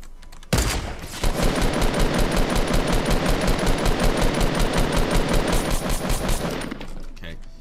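Rapid automatic gunfire sprays at an enemy in the Fortnite video game, a loud, sustained burst of evenly spaced shots lasting several seconds after an initial single crack, then cutting off.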